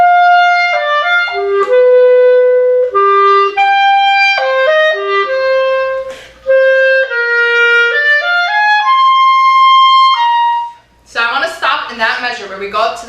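Clarinet playing the Maryland Junior All-State slow etude, a clear legato line of sustained notes that steps up and down and rises to a long high note, heard alone before a voice begins to speak near the end.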